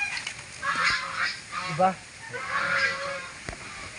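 An old goose, about six years, honks in several loud, nasal calls close by, interspersed with brief human speech.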